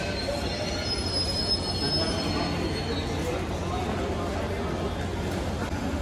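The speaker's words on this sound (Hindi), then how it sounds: "तो ट्रेन तो आ चुकी है, चलते हैं इसके अंदर।" Steady, loud rumble of a Mewar Express sleeper coach train on the move, heard from inside the carriage, with a thin high wheel squeal running through it the whole time.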